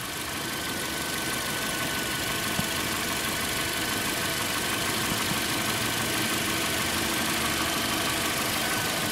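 A 2012 Toyota Corolla engine idles steadily after a cold start in January, a constant close-up drone with faint mechanical ticking and no talk.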